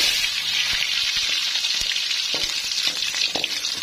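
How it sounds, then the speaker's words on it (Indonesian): Chopped garlic sautés in a hot pan for sambal geprek, a steady, dense, close sizzle running throughout with scattered crackles and light spatula ticks, no voices. "sebelum kita ulek, kita tumis dulu ya untuk bawang putihnya"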